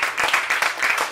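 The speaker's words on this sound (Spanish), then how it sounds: "Dale un fuerte aplauso." A church congregation claps strongly in rhythmic, pulsing waves, loud and close, with no talking over it.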